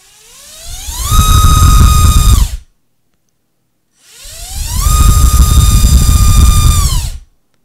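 Lumenier Skitzo 2205 2400KV brushless motors with ceramic bearings spin TJ5045 tri-props in two loud, whining runs. Each one spools up to a steady high-pitched roar and cuts off abruptly, with a short silence between them.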